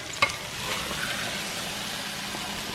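Potatoes and onion fry in a covered pan for a Spanish breakfast, giving a steady, close sizzle with a single sharp click near the start and no talking.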